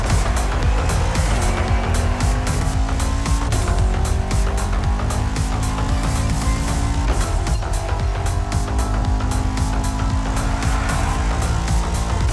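In The Crew Motorfest, a Bugatti Veyron Barchetta roars continuously at speed, its engine note rising and shifting through gears under a dense steady rumble of road and wind noise, with no talking.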